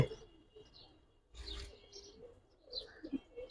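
Pigeons being sold at a market give soft coos and short chirps in brief bursts, quiet and close against a hushed background, with no clear talking.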